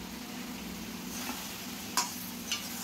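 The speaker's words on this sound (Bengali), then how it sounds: "পাঁচ রকম ভাজি হচ্ছে" Vegetables frying in a pan in a home kitchen give a quiet steady sizzle, with a couple of brief clinks or scrapes from stirring near the end and no talk.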